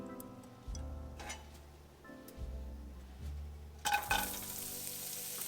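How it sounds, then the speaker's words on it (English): Garlic and shallots stir-fry in a pan for a curry, with a soft sizzle, a few spatula scrapes and clicks, and a louder burst of frying near the end. "Stir fry the garlic and shallots."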